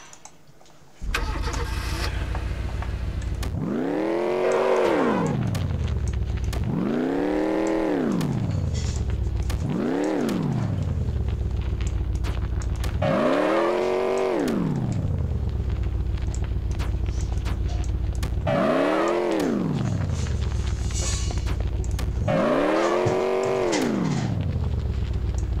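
A car in the video game Envirobear 2000 revs loudly in repeated rising and falling engine surges, about six sweeping cycles over a constant droning idle.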